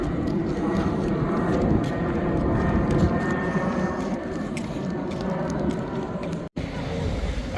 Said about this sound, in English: There are more planes coming in.